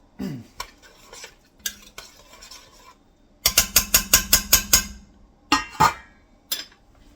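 Metal lid set onto a cooking pot of Lebanese lentil mjadra, with a quick run of sharp metallic clinks and rattles as it settles, a few scattered clanks around it.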